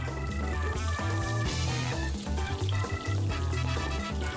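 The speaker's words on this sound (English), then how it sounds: "I'm going to put a bit of oil to my pan and my meatballs" Meatballs frying in hot oil in a pan give a dense, steady sizzle and crackle with no talk.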